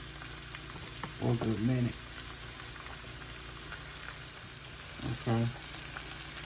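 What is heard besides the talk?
mustard pork chops frying in a pan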